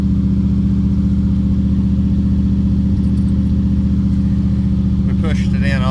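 A car engine that has been hard to keep running, now idling: a loud, close, steady low rumble that holds throughout, with a brief higher sound over it near the end.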